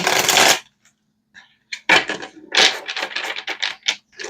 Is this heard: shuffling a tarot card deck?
yes